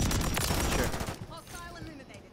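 A short flurry of loud gunshots from a shooter video game cuts off after about a second, leaving quieter game sounds and faint effects behind.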